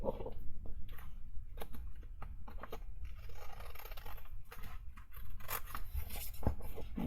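Scissors snip through card for a mini album cover, a series of quiet, close crisp cuts and rustles arriving in irregular bursts, with no talking.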